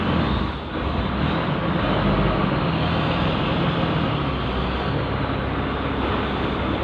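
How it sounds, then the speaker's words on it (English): A truck heading out along a street makes a loud, steady, broadband roar and rumble that holds nearly constant from start to finish, close by and with no voices. "Oh, it's just the truck going out."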